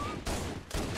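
A pistol fires in Halo: Combat Evolved, with two sharp shots about half a second apart, loud and close and followed by a brief ringing tail.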